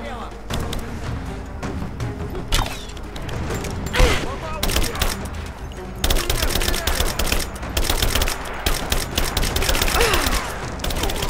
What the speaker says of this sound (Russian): Сейчас возьмем автомат сразу и всех покрошим.